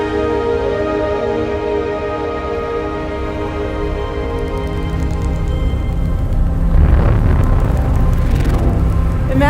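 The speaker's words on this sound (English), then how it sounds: "The sound you're hearing is a light black hole banging on space each time it gets close." Sonified gravitational waves from a light black hole falling into a much heavier one: a steady layered drone overlaid with repeated banging pulses that grow louder and denser toward the end.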